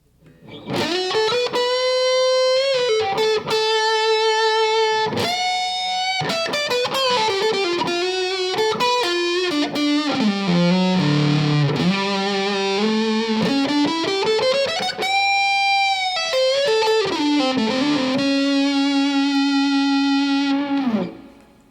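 Fender Stratocaster electric guitar with noiseless pickups and its mid boost engaged, played alone as a loud, sustained, hot overdriven lead line with bends and held notes, heard clearly without any talking.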